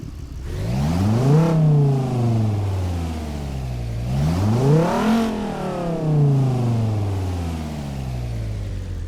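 A Jeep Gladiator's V8 engine in American Truck Simulator revs up and down in repeated rising and falling sweeps, close and steady, with no other sounds over it.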